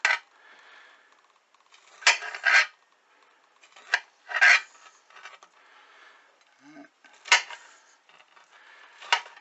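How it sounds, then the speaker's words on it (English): Blades rasping and scraping through a canna plant, cutting it into pieces: several short, loud cutting strokes come in irregular bursts with quiet gaps between them, close by and with no talk over them. "I'm going to cut this canna up."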